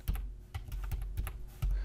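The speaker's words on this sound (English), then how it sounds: "I'm gonna type in anime" A computer keyboard clicks nearby in a quick run of separate keystrokes, close and clear, with no voice over it.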